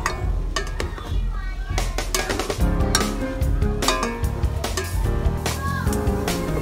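Garlic and vegetables are stirred in a sizzling pan for a simple pork and vegetable dish, with irregular scraping and clanking of a utensil against the pan over a steady frying hiss.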